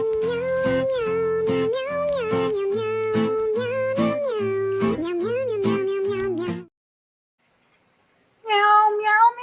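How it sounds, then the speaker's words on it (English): A cat meows repeatedly in a loud, close, drawn-out series of yowls, then falls silent for a couple of seconds before one more meow. No one speaks over it. "So we'll do the kitty cat."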